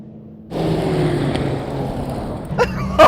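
Mercedes-AMG cars in a drag race, including a C63 and a GT, roar past as a loud engine rises abruptly and sustains with a steady drone, close by, with brief rattling sounds near the end.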